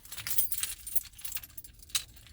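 A spare set of keys jangles close by in bursts of bright metallic clinks, shaken a few times in quick irregular rattles with short pauses between them, and no one talks.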